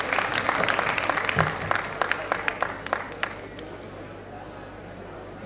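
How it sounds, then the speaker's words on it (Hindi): An audience at an Indian Jain Milan convention claps loudly in a dense burst of applause that thins into scattered individual claps and fades out over a few seconds. "अब इन वीरांगनाओं के लिए मैं ताली बजाकर आपका स्वागत करता हूं।"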